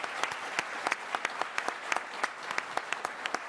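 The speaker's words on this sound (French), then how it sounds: "on peut applaudir Yann Eliès qui est avec nous." An audience claps steadily at a live sailing broadcast, a moderate, even patter of many hands with a few louder individual claps, no voices.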